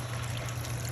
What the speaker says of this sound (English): Now I'm going to add a little bit over 1 cup of water.